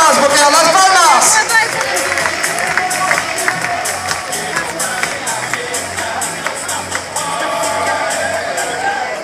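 Crowd at a recortadores bull event in the Beaucaire arena, 2014, cheering and clapping in a loud, sustained hubbub with broad roaring noise and scattered claps, mixed with nearby talk and a rising call at the start.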